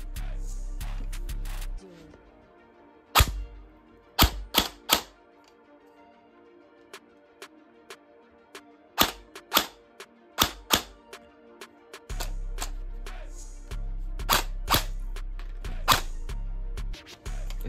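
An airsoft gun fires BBs through a chronograph, sharp snapping shots in quick bursts of two to four, separated by stretches of quiet, over a low background hum that cuts in and out.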